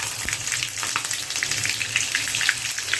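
Cumin seeds and green chilies sizzle in hot oil with mustard seeds for a quick beetroot stir-fry, giving a steady, close crackling fry with bright spitting pops throughout and no talking.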